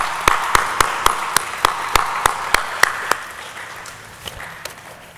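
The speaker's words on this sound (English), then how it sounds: "I'd like to have everybody give a round of applause" At a nursing honor society ceremony, distinct rhythmic hand claps ring out close and sharp, a dozen or so strong beats that fade to scattered claps near the end.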